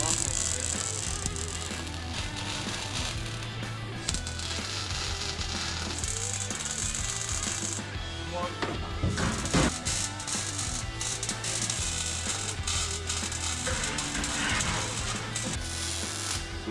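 A ratchet works while a gas tank mount is bolted down in a garage, with irregular clicking and mechanical rattles running throughout, mixed with shop noise and occasional voices.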